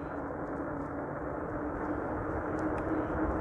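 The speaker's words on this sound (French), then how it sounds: "Donc là j'utilise la manette des gaz pour accélérer un peu" An electric mountain bike motor under throttle drones steadily on a downhill trail near Breil-sur-Roya, a continuous low hum that swells slightly as it accelerates, with no voices.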